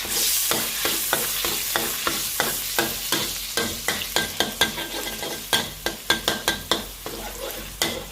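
Egg being stir-fried for dry sukiyaki in a hot pan, a steady loud sizzle broken by rapid rhythmic scraping and stirring strokes throughout, with no talking.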